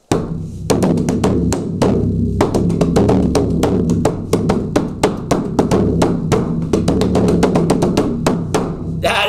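A large gathering hand drum has its head struck by hand in a rapid, steady run of loud, close hits, each with a deep resonant boom under sharp slaps, continuing throughout with no pauses.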